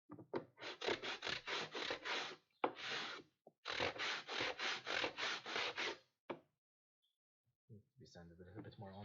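Sandpaper rasps against wood in rapid back-and-forth strokes, two long runs of close, even scrubbing separated by a short pause, with a voice briefly at the end.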